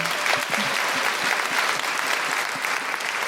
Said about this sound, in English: Every time Leyla Hussein speaks, she gets a round of applause